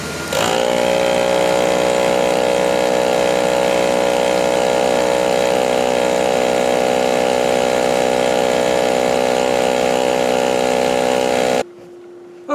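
A van engine runs to drive a tire pump, giving a steady loud mechanical drone with a strong tonal hum that holds for about eleven seconds before stopping abruptly.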